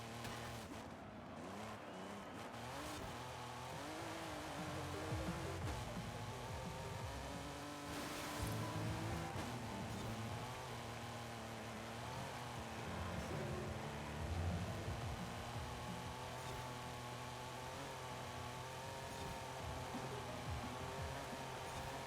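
A V12 engine in the Forza Horizon 5 racing game, a Lamborghini Espada droning and revving steadily with shifting pitch as it cruises, fairly quiet and without voices.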